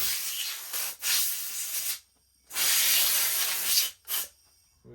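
Compressed air nozzle blowing mud off bolts on an FJ40 Landcruiser gearbox, delivered as several close, loud hissing bursts of varying length separated by short silences.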